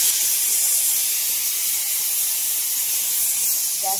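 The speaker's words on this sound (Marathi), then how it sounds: "कुकरची 4थी शिटी होती ती." A pressure cooker on a gas stove vents steam at its fourth whistle, a loud, continuous hiss that holds steady for the whole stretch, close by and with no talking.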